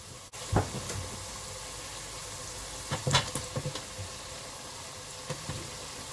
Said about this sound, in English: I'm going to add 2 medium diced potatoes.